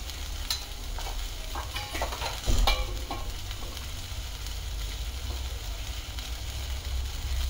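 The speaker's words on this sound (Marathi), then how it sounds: "आणि थोडंसं त्यात घालायचं जिरं" Cumin seeds sizzle steadily in hot oil, a constant frying hiss with a few stirring scrapes and a brief louder flare partway through.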